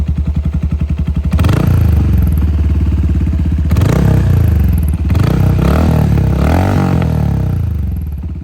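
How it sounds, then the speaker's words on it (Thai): A 2021 Benelli Imperiale 400 motorcycle in club style idles, then is revved hard in several loud bursts, roaring up and dropping back, close to the listener with no talking. "เดี๋ยวจะลองเบิ้ลให้ฟังเสียงของเครื่องยนต์นะครับ"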